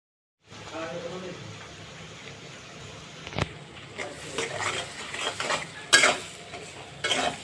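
Onions and green chillies frying in a pan, with spoon-stirring scrapes and clinks over a steady sizzle, while a person talks throughout.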